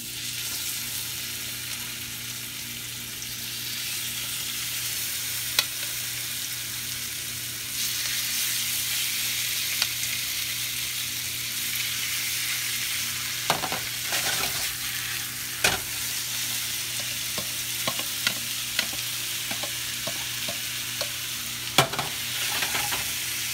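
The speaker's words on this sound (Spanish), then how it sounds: "De vez a cuando voltear el pollo en la sartén." Chicken frying in a pan gives a steady, close sizzle throughout, broken by scattered clicks and scrapes as the pieces are stirred and turned.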